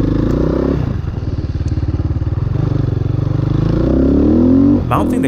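A motorcycle engine runs steadily and loudly up close, with a rough, vibrating drone and a brief rev toward the end.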